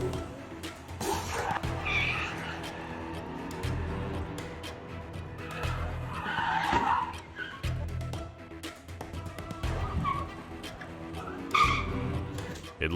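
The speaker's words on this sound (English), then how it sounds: "An extreme collision between two cars was caught on a camera." Two cars collide on a New York City street in the morning, with tires skidding in several loud bursts over steady traffic noise.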